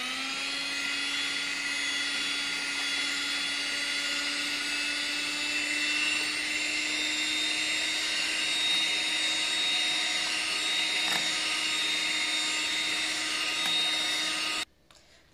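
An electric hand beater whirs steadily as it beats cake batter for a Black Forest cake while powdered sugar is added, a loud, continuous motor drone with no talk that cuts off abruptly at the end.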